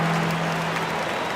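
Arena crowd at a Blazers basketball game claps in a dense, steady burst of applause, loud and sustained over the short span.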